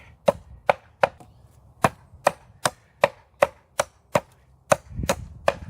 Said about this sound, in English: Chopping with it, breaking those branches down, and then kind of chiseling the points down into stakes.